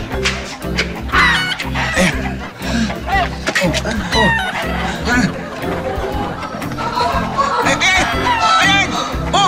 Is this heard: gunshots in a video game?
no